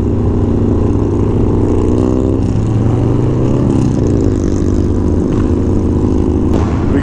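Harley-Davidson Low Rider motorcycle cruising with a steady, loud engine drone and rumbling low harmonics throughout, shifting pitch slightly as the bike speeds up and eases off.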